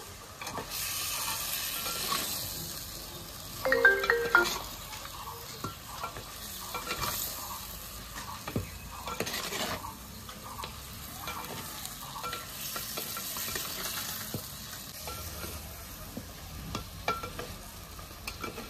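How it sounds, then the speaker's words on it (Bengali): Chicken with chili powder fries in a pan with a continuous close sizzle, with regular scraping and stirring strokes and occasional utensil clinks throughout. "এবার আমি লঙ্কার গুঁড়ো দিয়ে দেবো। আরো একটু কষে নেবো ভালো করে।"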